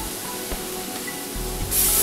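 Cooking oil spray is released in short hissing bursts over a pan where chicken is being cooked, growing louder and brighter toward the end, with no one talking.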